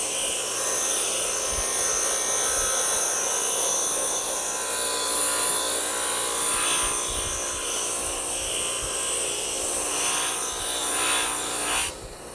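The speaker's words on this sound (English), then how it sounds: "I'm going to just hold it underneath the wheel and let it softly abrade and remove some material" A spinning wire wheel softly abrades the surface of a wood barn beam, a continuous close whirring hiss with a faint gritty scrape that holds steady for several seconds before cutting off near the end.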